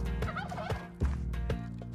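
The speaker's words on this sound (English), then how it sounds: "I'm not gonna bother with the turkeys." Turkeys in the video game Spelunky 2 gobble in quick, warbling bursts, several rapid calls layered over a steady game music bed, close and clear with no talk.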